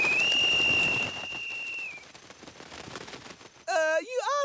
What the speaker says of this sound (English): You ought to blow the whistle more softly, Joe, just like Miss Betty said.